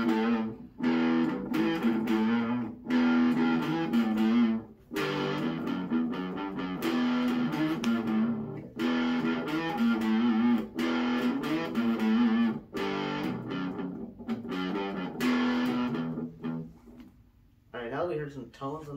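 A heavily distorted seven-string ESP LTD MH17 electric guitar plays low, dark riffs with chugging chords and brief pauses, loud and continuous throughout.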